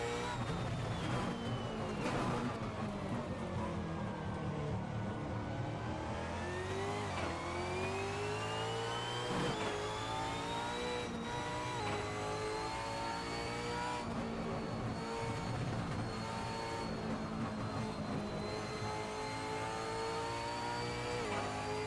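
Supercars race car engine in the Assetto Corsa racing game at Pukekohe, revving loudly and continuously with rising and falling pitch through gear changes, alone without talk.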